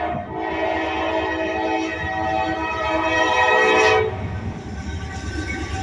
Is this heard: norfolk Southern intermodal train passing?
yes